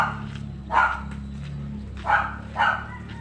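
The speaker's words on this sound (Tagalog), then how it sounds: "Nag-ingay ng ano, nag-ingay ng aso." Three barks from a dog, one then a pause before two more in quick succession, moderately near, over a quiet background hum.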